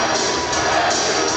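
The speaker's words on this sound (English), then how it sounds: "You hear the chants of Jesse." Crowd at an MMA event roaring after fighter Jesse Voigtschild's debut win, a dense, loud, continuous wall of voices with chant-like swells throughout.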